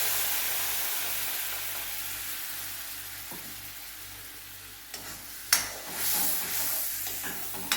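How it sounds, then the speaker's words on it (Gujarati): Tomato puree from two medium tomatoes cooking in a hot pan with a soft, continuous sizzle, then a sharper clatter and stirring toward the end. "એની અંદર મેં આ 2 મીડિયમ સાઇઝના ટામેટાની પ્યોરી કરી દીધી છે, તે એડ કરી દઈશું."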